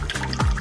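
Juice running from a special tap into a glass, a brief splashing pour lasting well under a second, close and fairly loud with no talk.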